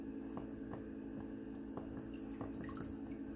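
Water dripping off a fish steak just dipped in a bowl of water, small irregular drips and splats heard faintly over a steady low background hum, no talk.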